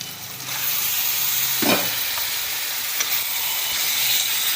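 Chicken gravy ingredients fry in a pan with a continuous hissing sizzle, plus one clear stir or scrape near the middle and a few fainter ones, close and steady with nobody speaking.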